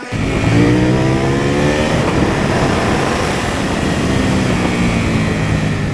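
A close CFmoto 800NK motorcycle engine winding up hard from 0 to 100 km/h, its pitch climbing steadily through the gears with loud rushing wind noise.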